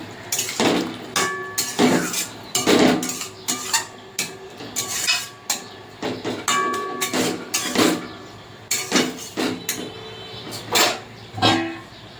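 Metal pan with potatoes and drumsticks in mustard-poppy curry, repeated clanks and clinks of a lid and utensils against the pan in irregular bursts, fairly close, with quiet gaps between.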